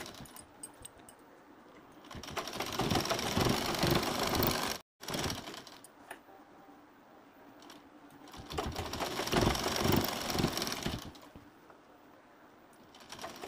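Sewing machine stitching a fabric pillow cover, running in two long whirring bursts with a short pause between them, close but fairly quiet, with no speech.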